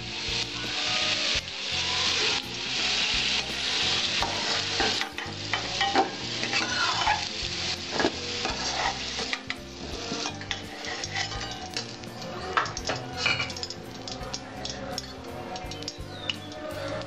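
Potatoes frying in oil with a constant sizzle, broken by repeated scraping and stirring of a utensil against the pan.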